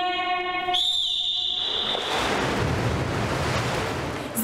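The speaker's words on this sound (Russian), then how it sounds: "Звучит свисток" A coach's single high, sustained whistle blast rings out at a school swimming pool, then gives way to a wash of splashing water as young swimmers dive in, with noisy ambience.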